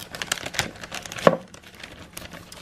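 A plastic bag over a philodendron houseplant crinkles in short, close rustles and crackles as it is opened, with one sharper crackle partway through.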